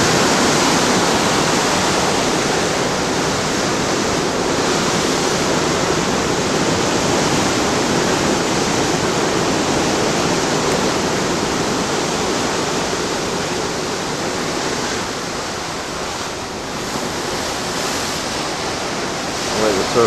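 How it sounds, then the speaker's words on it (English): Heavy surf pounds a shoreline on an Alaskan coast, a loud, steady, broadband roar of breaking waves that swells and eases slightly over twenty seconds with no voices. "The way the surf is pounding against the shore."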